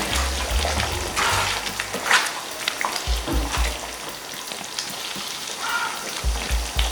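Green chili chicken gravy with coconut comes to a boil in a pot, a close, continuous bubbling and sizzling patter that stays steady throughout, with no talking.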